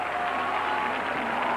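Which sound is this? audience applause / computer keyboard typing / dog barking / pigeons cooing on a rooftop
audience applause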